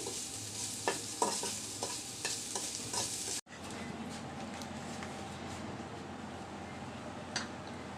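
Chicken pieces for shawarma sizzle and frying in a pan, a steady crackle with intermittent sharp stirring scrapes and clicks, then a quieter continuous sizzle after a brief cut.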